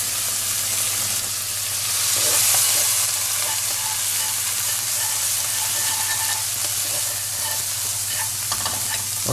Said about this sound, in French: vous faites revenir tranquillement, on fait saisir quand même dans le wok là